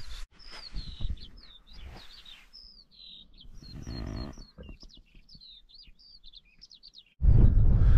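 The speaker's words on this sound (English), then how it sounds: "enjoying the view, listening to the birds" Small birds chirp and tweet repeatedly in high, quick phrases against a quiet outdoor background, ending with a sudden loud rush of noise.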